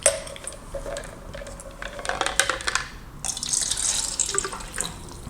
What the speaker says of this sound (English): Now let's pour some Kangen water.